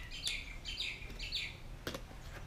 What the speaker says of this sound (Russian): На Маврике птички играют